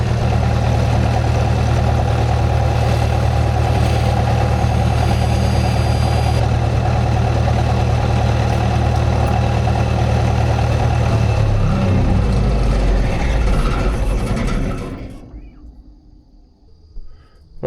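An engine drive welder runs with a steady low idle drone, then is shut down, its engine note sagging and dying away to near silence before a faint final knock.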